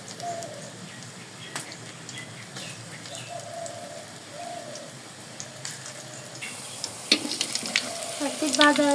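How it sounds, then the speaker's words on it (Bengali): Raw plantain fritters (phuluri) frying in hot oil give a quiet, continuous sizzle with scattered crackles and pops, growing busier toward the end. "এখন ছোট ছোট করে ফুলুরিগুলো ভেজে নিব।"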